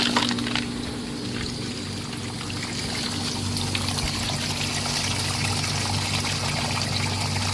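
Water pours steadily out of an Intex sand filter pump set to the rinse position. It makes a continuous splashing, gurgling flow full of air bubbles, close up and with no talking over it.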